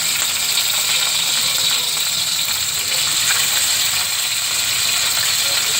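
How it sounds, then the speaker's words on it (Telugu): Fish pieces dropped into hot oil for a Telangana-style rava fish fry sizzle in a steady, loud, dense hiss that holds unbroken throughout. "నూనె వేడెక్కినాక ఈ చేప ముక్కను ఇందులో వేసుకోవాలి."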